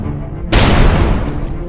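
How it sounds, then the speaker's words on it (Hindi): A sudden explosion sound effect bursts in at about half a second, a loud broadband blast that keeps rumbling and crackling to the end after a quieter lead-in. "अचानक बाहर से एक विस्फोट की आवाज आई।"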